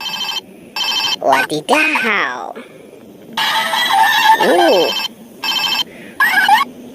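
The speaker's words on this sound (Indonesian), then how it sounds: "ternyata di sini ada ondel-ondel lagi megang telepon teman-teman. Teleponnya telepon Hello Kitty ya. Wah, lucu ya bunyinya ya" A Hello Kitty toy telephone rings in several short, bright electronic bursts, fairly close and loud, with gaps between them; a playful voice talks and exclaims in between the rings.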